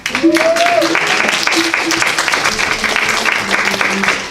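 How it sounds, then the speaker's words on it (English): An audience at a Revolutionary Mothering event applauds Maya, producing a dense, steady wash of clapping with a voice speaking over it. "I want to ask everyone for a round of applause for Maya"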